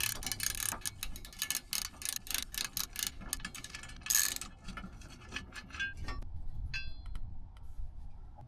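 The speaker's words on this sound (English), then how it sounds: "you'll be removing the 2 17mm bolts holding the OEM point, along with a bolt holding the side bracket in" Ratchet clicking as it backs a bolt out of the side tow point bracket on a 3rd-gen 2016-2023 Toyota Tacoma, a close, rapid run of mechanical ticks in uneven bursts with short pauses, no talking.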